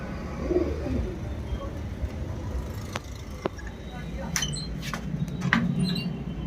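Soft pigeon cooing close by amid background bird chatter and occasional clicks, with a steady low hum of surroundings.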